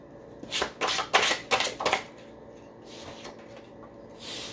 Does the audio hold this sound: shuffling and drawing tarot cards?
yes